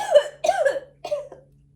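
Three harsh coughs in quick succession, close and loud, followed by a short rasping catch of breath.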